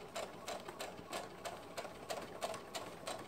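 A home sewing machine stitches through the seam of a skirt, running in a steady chattering rhythm of quick needle strokes with brief pauses, fairly close and moderately quiet, with no talking.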